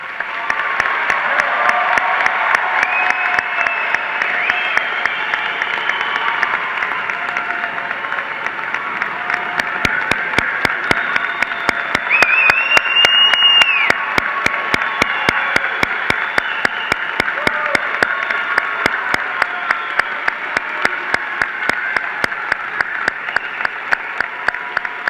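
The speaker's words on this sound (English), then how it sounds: "give the graduates a round of applause" Sustained applause from a large commencement audience honoring graduating medical students of the class of 2017, a steady dense clapping that holds loud and even throughout with crowd murmur beneath.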